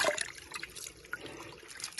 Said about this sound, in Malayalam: ഈ ഒരു ചെറിയ ചാല് പോലെ കിടക്കുന്ന ഇത് ഊറ്റാണ് ഗൈസ്